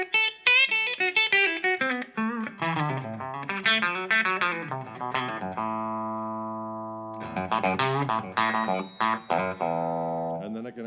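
An electric guitar with its pickups wired out of phase gives a hollow, nasal tone, a quick run of picked notes, a held chord around the middle, then more fast phrases.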